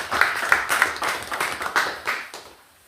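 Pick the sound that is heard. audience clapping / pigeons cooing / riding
audience clapping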